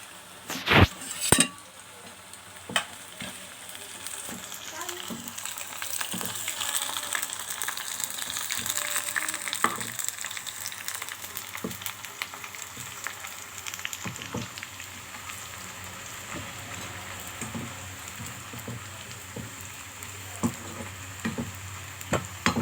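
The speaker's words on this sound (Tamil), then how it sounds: "எண்ணெயில் போட்டு பொரிக்கலாம்." Lightly salted sweet potato chips frying in hot oil, a steady crackling sizzle with scattered clinks and scrapes of a utensil, especially at the start.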